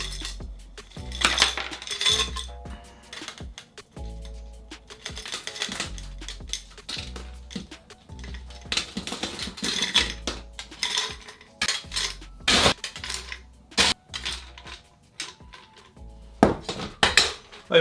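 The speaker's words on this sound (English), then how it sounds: "we're going to put the ice cubes into the Tom Collins glass" Ice cubes go into a Tom Collins glass for a summer cocktail, a string of clinks and clunks of ice and glassware, some single and some in quick clusters, close by.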